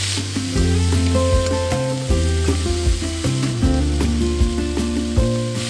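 Garlic with salt, sugar, seasoning and pepper fries in a pan until slightly burnt, giving a continuous loud sizzle with faint clicks, under prominent music.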